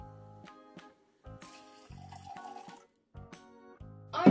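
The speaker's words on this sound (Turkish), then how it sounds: "önce yarım litre suyumuzu sürahimize boşaltıyoruz" Half a litre of water is poured into a pitcher for homemade lemon iced tea, heard as a few short splashing pours broken by pauses, fairly quiet and close.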